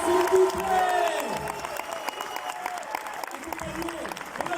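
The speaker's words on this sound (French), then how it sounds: "on va applaudir très très fort, s'il vous plaît, Sophie Martin-Louis" An audience at a film premiere applauds and cheers loudly, the clapping dense at first and then thinning, with a voice speaking over it throughout.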